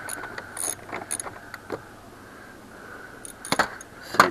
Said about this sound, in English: this is the main battery mount. I'm going to loosen it up quite a bit